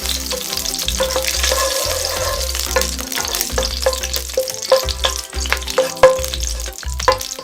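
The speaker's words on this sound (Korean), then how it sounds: "건고추, 크미시드, 헤누그리시드, 카다모, 월계수잎을 넣고 볶아줍니다." Dried chili, cumin seeds, fenugreek seeds, cardamom and bay leaves stir-fried in hot oil for an Indian dal makhani, a steady close sizzle with crackling pops and scraping stirring strokes, no talk.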